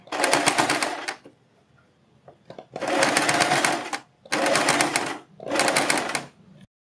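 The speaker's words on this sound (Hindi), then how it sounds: "इस तरह से हमें इसको अंदर की तरफ को फोल्ड करना है और तब इसके ऊपर सिलाई लगानी है" Sewing machine stitching a folded neck strip in four close, loud bursts of rapid whirring separated by short quiet pauses.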